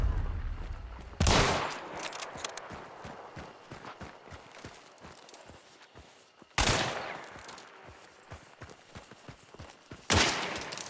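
Gunfire in Hunt: Showdown, with three loud bursts of shots standing out over rapid rhythmic clip-clop-like footsteps or hoofbeats running throughout.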